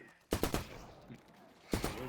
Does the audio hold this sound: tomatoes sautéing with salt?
no